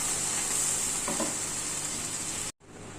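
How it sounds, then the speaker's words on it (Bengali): Bata fish masala with potato sizzles steadily and evenly in a hot pan, a dense close hiss that cuts out briefly near the end before resuming. "মাছের মশলা কষানো হয়ে গেছে, একটু জল দিয়ে নিই।"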